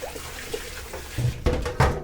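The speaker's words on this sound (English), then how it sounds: "So I'm just going to run that under the tap" A kitchen tap runs to rinse an oily pan, steady water flow with splashing bursts growing louder as the stream hits the pan.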